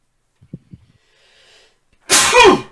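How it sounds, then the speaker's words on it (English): A single sharp human sneeze, close and loud, preceded by a couple of small breathy intakes and faint background sound. "Sneezes."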